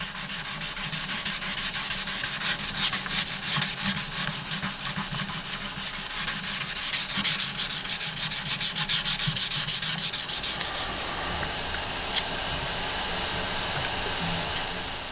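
Buffalo horn eyeglass temples are sanded on a machine, a steady gritty rubbing hiss with quick rhythmic pulses that eases into a smoother, quieter whir in the last few seconds.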